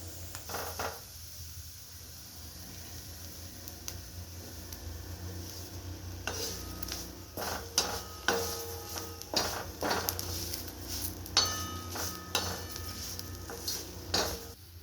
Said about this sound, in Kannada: ಈ ಥರ ಚೆನ್ನಾಗಿ ಹುರ್ಕೋಬೇಕು